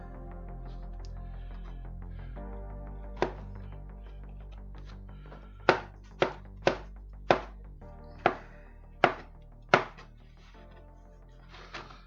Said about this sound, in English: can do a bit more chopping.